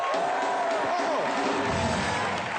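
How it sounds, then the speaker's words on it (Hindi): A studio audience on a Hindi comedy show cheers and applauds in a broad, continuous wash, with a voice and tonal sounds riding over it. "जोरदार तालियां सिद्धू बाजी के लिए।"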